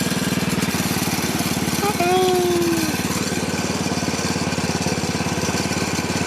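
A Bolens lawn tractor's small engine runs steadily just after startup, a loud, even putter close by with a faint brief whine over it partway through.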